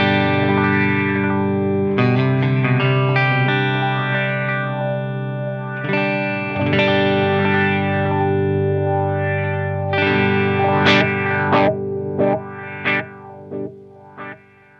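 Electric guitar through a Source Audio Nemesis delay pedal on its sweeper setting plays sustained chords wrapped in swirling, modulated repeats, then single notes whose echoes trail off into gaps.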